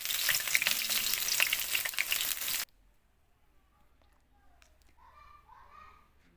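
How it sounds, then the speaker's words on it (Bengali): Chopped onions sizzle loudly in hot oil in a wok for a couple of seconds with a stirring crackle, then the frying stops and faint children's voices are heard in a quiet room. "তেলটা গরম হয়ে আসলে এর মধ্যে দিয়ে দিব পেঁয়াজ কুচি।"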